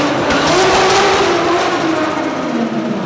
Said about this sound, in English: the last burnout I did in this car at a mate's factory